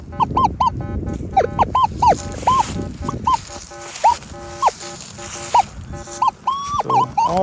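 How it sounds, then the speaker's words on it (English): A Minelab Manticore metal detector sweeps over an iron target, giving a run of short, scratchy, warbling chirps and grunts that repeat at an uneven rhythm, up close and fairly loud over a low background rumble. "a scratchy sound to it, and on the Manticore, it's reading all iron"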